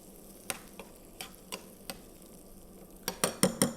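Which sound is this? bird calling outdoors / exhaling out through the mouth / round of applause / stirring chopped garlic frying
stirring chopped garlic frying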